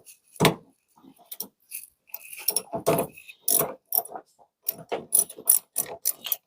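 A ratchet wrench with an 8mm socket working on a Chevy S10 minitruck's battery terminal, a series of close, sharp metallic clicks and clatters in uneven bursts separated by short pauses.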